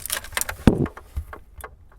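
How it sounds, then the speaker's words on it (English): A full set of spare keys for a 1996 VW Autosleeper Trident campervan jangles briefly close by, a short metallic clink and rattle lasting about two seconds. "Full set of spare keys."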